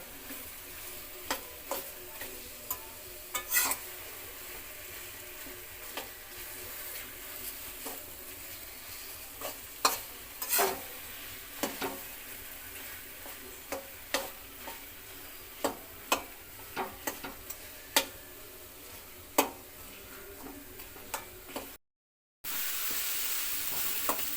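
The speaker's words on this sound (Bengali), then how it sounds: "আবার একটু ভালো করে খুন্তির সাহায্যে নাড়িয়ে নেওয়া হলো কচু শাকটা" A spatula stirs hilsa fish head cooked with taro greens in a pan, giving scattered scraping clicks and taps over a soft steady sizzle, fairly close, with no talking.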